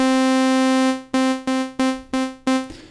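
A bright, buzzy initialized-patch tone on a PG-8X synthesizer holds steady, then repeats as five short plucked notes of the same pitch, each decaying quickly before the next.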